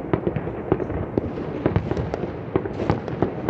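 Firecrackers and fireworks burst on New Year's in a rapid, uneven string of pops and bangs, moderately near, over a constant background crackle from further away.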